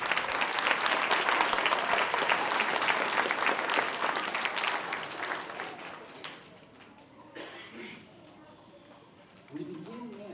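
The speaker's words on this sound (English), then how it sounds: "So I'd like to give them a big round of applause." Audience applause for third and fourth grade teachers at an elementary school spring concert, loud and sustained, then fading to scattered claps and murmuring voices.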